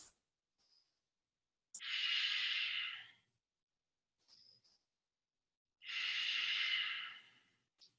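Slow, deep breaths during a yoga flow: two long, broad exhales about four seconds apart, each filling a second or more, with faint shorter inhales between, close and alone in a quiet room.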